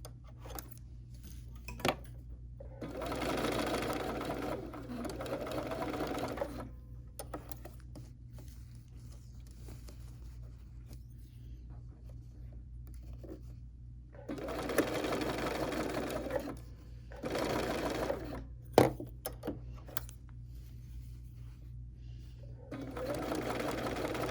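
A Bernina sewing machine stitches in several bursts of steady rapid whirring, with quiet pauses between runs and close, moderately loud sound.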